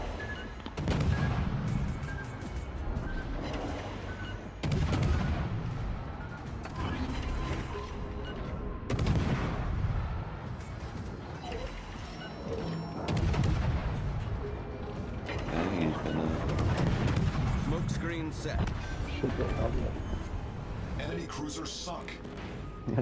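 Naval gunfire rumbles through a World of Warships: Legends match as a Takahashi destroyer fires armour-piercing shells, with repeated loud booming salvos over a dense battle din and players talking throughout.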